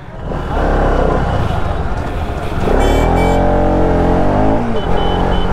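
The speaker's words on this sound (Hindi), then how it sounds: "ए ट्रैफिक सुनो," Busy road traffic with cars and motorbikes passing close by, engines swelling and fading in overlapping waves, with a brief horn-like tone near the middle and steady loud rumble throughout.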